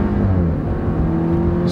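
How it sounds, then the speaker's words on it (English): A Mercedes four-cylinder car accelerates hard, its engine droning loudly with a rising turbo whir that climbs steadily as it pulls, heard from inside the vehicle with no talk. "There goes the turbo."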